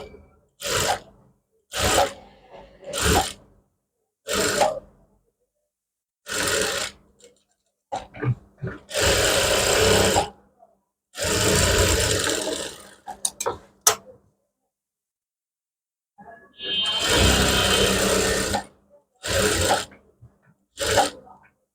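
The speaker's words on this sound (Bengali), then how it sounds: "প্রথমে হচ্ছে আপনারা এই পাশটা সেলাই করবেন।" A sewing machine stitches fabric piping in repeated bursts, short rattling runs first, then longer whirring stretches, close up with quiet pauses between.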